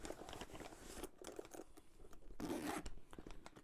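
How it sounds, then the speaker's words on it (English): A zipper runs along a zipper pocket sewn into a slouch bag. It gives several short, soft rasping pulls in a row, close but quiet, with faint rustling of fabric between them. "So here is that zipper pocket."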